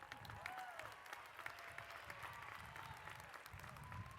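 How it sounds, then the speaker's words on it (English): A commencement crowd claps for the student body president, steady distant applause with a few voices murmuring faintly underneath. "she deserves some applause"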